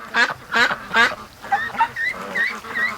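Ducks quacking near a muddy pen drain, three loud close quacks followed by softer, quicker chattering calls.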